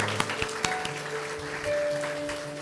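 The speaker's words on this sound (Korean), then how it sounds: "우리 수고한 최경화 전사도 우리 박수로 격려하겠습니다." Church congregation applauding at a Sunday afternoon service graduation ceremony: a few scattered claps over a sustained held tone in the room.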